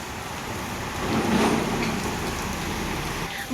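Heavy rain pours down outdoors among plants, a dense, continuous hiss that swells briefly before settling into a steady downpour, with no talking.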